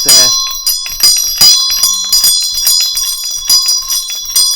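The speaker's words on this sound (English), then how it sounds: "They use the same sort of Tibetan bell that I use for Tibetan practice" A bright Tibetan bell rings with a sustained, shimmering tone that lingers while someone speaks over it, near and loud.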